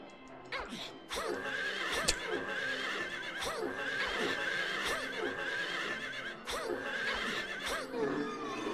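Eerie whinny of a dead horse creature in the video game Silent Hill 3, several strained neighing cries recurring over a dense, loud game soundscape with clip-clop-like thuds.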